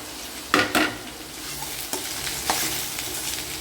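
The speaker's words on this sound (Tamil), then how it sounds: "சுரக்காய் வறுத்துக்கலாம்." Bottle gourd from the garden sizzles in a pan with green chilli and shallots, a steady frying hiss broken by a few sharp spatula knocks and scrapes as it is stirred.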